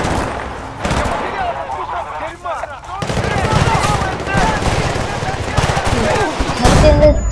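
Rapid automatic gunfire and bursts of shots in the video game Battlefield Bad Company 2 during an urban firefight, loud and near, running nearly continuously with someone talking over it.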